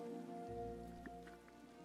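Rain in the video game Disney Dreamlight Valley falls as a soft, steady hiss of drops on surfaces, faint and even under a low ambient game tone, with no voices.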